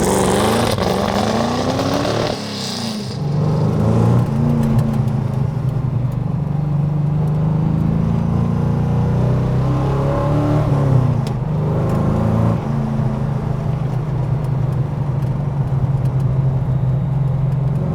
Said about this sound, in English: You're basically driving a huge V8 strapped to your back in a lightweight, low aerodynamic racing car.